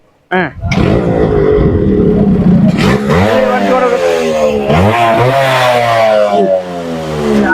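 A Yamaha RX motorcycle engine catches and revs hard, close and loud, its pitch climbing and falling through repeated throttle blips for several seconds.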